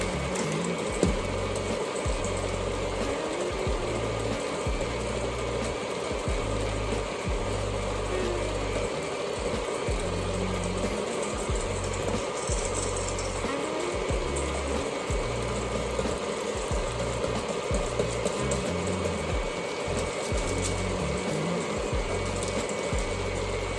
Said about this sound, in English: mixing this so all the little particles, like the little clumps of flour, cornmeal, this and this, and sugar, the clumps of sugar,